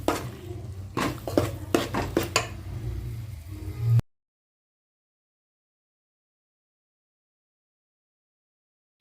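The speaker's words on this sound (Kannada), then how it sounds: "ಸೊ ಅದಕ್ಕೆ ಕಂಟಿನ್ಯೂ ಆಗಿ ಒಂದು 10 ನಿಮಿಷ ಈಗ ಹುರ್ಕೋಬೇಕು." Coconut barfi mixture being stirred in a pan, with a spoon scraping and clinking against the metal in a quick run of knocks over steady cooking noise, then abrupt silence.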